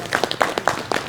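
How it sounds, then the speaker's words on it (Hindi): Audience hands clap together at a yoga workshop held at the Urdu Academy, AMU, giving a run of sharp, separate claps at a slow, fairly even beat, close and moderately loud. "सारे आप लोग मिल करके ताली बजा रहे हैं"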